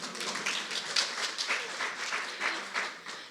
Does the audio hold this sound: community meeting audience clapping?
yes